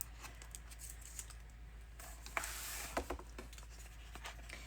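Scissors snip through paper in a B5 notebook with a few soft close cuts and small paper rustles in a quiet room.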